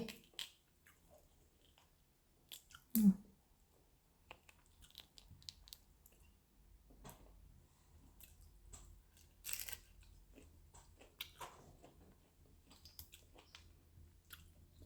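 Crispy deep-fried sea cicadas (mole crabs) being chewed close up, giving soft, intermittent crunches and mouth sounds over a quiet background, with no talking.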